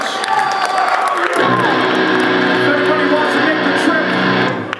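A crowd at a Skinless metal show at California Deth Fest IV cheers, whoops and applauds loudly and continuously, a dense roar of voices and clapping with a shouted voice on top.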